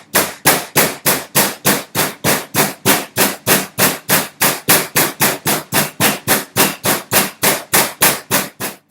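Chicken fillets for chicken Kiev are pounded flat in a fast, steady run of about thirty sharp, loud thumps, close and evenly spaced, with no talk over them.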